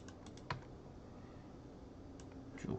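Sparse computer keyboard keystrokes while text is deleted, a few soft clicks and taps scattered over a quiet steady room hum, with no talking.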